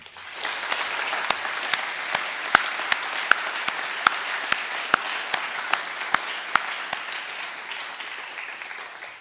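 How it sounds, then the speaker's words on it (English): A school hall audience at a senior academic awards assembly gives sustained applause for the award winners. The clapping holds steady for several seconds, with a few sharp, evenly spaced claps standing out close by over the crowd. "we'll just give one last round of applause to all the award winners today"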